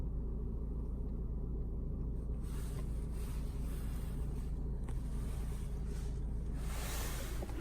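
A car engine idles with a steady, even low rumble throughout, constant in loudness, with no voices over it.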